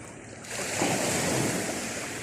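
Sea waves wash and rumble steadily near a small fishing boat at sea, with wind buffeting the microphone and a surge swelling up about halfway through.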